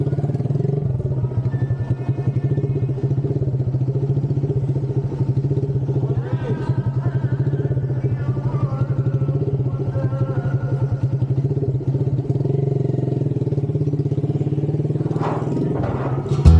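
Motorcycles ride onto a ferry to park, with a continuous close engine drone and rattling clatter on the deck, ending in a brief louder knock, and faint voices underneath.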